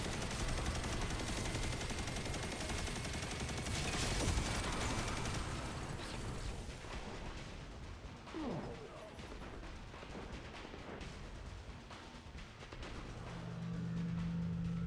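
Machine gun in a video game spinning up and firing during damage tests, dense continuous bursts of gunfire that thin out partway through, with game sounds and brief talk mixed in.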